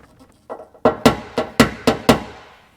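Paintless dent repair on a car panel, with a tool tapping dents down: about seven sharp, ringing metallic taps in a quick, slightly uneven rhythm, close and clear with no talking.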